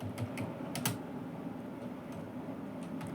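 C++ code is typed on a computer keyboard in scattered, quick clicks, some in short clusters. The keystrokes are faint and close, with no talking.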